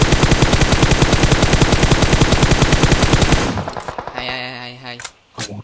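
Rapid automatic gunfire spraying in the PUBG Mobile shooter game, a loud continuous burst of dense rhythmic shots lasting about three seconds, then fading into scattered echoes and a couple of sharp single shots.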